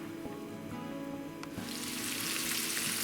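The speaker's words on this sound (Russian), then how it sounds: "жарится судак." Zander fish coated in flour and semolina fries in a pan, first with a soft low crackle, then a loud, bright, steady sizzle that swells midway and holds up close.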